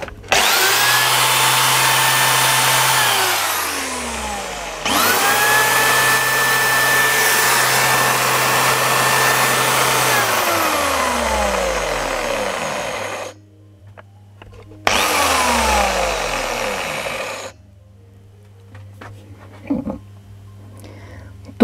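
Repaired Makita UC4010A electric chainsaw motor whirring loudly at steady speed, with a tone that winds down and restarts several times before stopping near the end.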